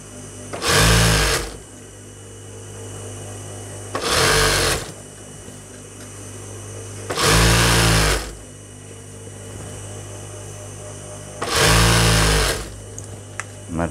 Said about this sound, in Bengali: আমার প্রায় সেলাই দেওয়া শেষ হয়েছে।